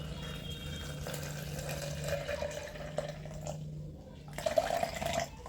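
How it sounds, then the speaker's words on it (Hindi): Water poured into a shaker holding a scoop of protein powder, a continuous splashing trickle with a brief pause before pouring resumes and grows louder, close by with no talking. "अब मैं इसमें पानी ऐड करूँगा।"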